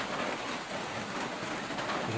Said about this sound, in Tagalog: Nung lumakas ang ulan.